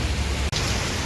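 Monsoon rain falls as a steady, dense wash of hiss, loud and continuous with a brief dropout halfway through and no voices.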